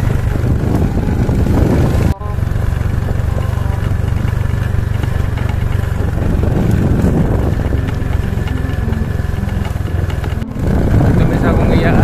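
A motorcycle engine hums steadily while riding along a rural barangay road, a continuous low drone under wind rush, with a couple of brief dropouts and people talking over it.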